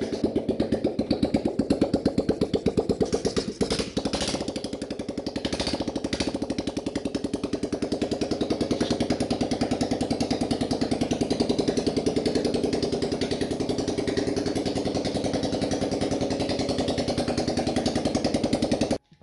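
A homemade buggy engine with no muffler fires up and runs with a loud, rapid, unbroken chatter of open exhaust pulses, holding a steady idle close by for nearly twenty seconds before cutting off.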